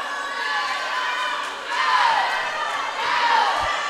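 Teammates cheering a swimmer from the end of the pool at a high school swim meet, echoing crowd noise with whistles that swells in two louder bursts.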